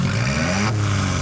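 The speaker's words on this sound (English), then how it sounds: "there is no mistaking it for anything other than a droning 4-cylinder engine" A 2016 Alfa Romeo 4C Spider's droning 4-cylinder engine revving through its exhaust, a loud, continuous close-up buzz rising in pitch over a second.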